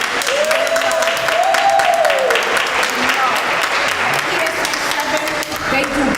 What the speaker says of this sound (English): So I want y'all to give him a warm hand clap